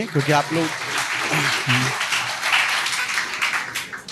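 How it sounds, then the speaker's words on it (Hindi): Students at a UPSC exam coaching talk applaud, a dense round of clapping from a hall of listeners, with a speaker talking briefly over its start before the clapping carries on alone. "उनके लिए एक बार तालियां होनी चाहिए"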